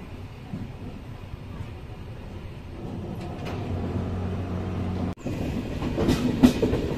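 A Duranto Express rolls along at about 130 km/h, heard from inside as a steady rumble with rhythmic clickety-clack over the rails that grows louder toward the end.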